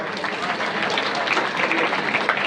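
Audience applause rises during a motivational talk, a steady wash of many hands clapping at moderate loudness for a couple of seconds.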